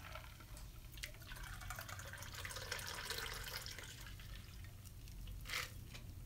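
An Old Monk rum cocktail being poured into a glass, heard as a faint, continuous liquid trickle with light dripping that stays quiet and close throughout.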